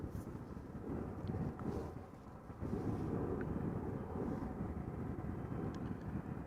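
A low, continuous rumble from an aircraft taxiing at Amsterdam Schiphol Airport, heard from a distance and mixed with gusty wind noise on the microphone, swelling slightly partway through.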